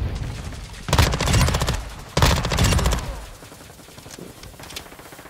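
A BAS-P submachine gun fires in Call of Duty Modern Warfare 2 during a Shoot House match: two loud, rapid automatic bursts, each about a second long, followed by quieter scattered distant gunfire.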